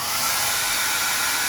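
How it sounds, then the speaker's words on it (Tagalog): An electric blower runs steadily at close range, a loud continuous whooshing roar filling the whole stretch without a break and with no voices. "Kakadala ko lang ng blower."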